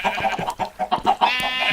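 Chickens clucking and sheep bleating in a Minecraft farm, a quick series of close, overlapping bleats and clucks over a couple of seconds.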